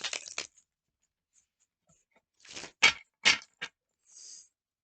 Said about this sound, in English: I am shuffling these cards in a way where there will be reversals